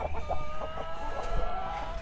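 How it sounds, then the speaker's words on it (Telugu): Bhimavaram breeder hens on a farm give a run of short, repeated clucks, with a longer crowing call rising in the middle. The birds sound moderately close against a steady farmyard background. "అంతపాటి హెవీ సైజ్ పెట్ట కూడా మన బ్రీడరే."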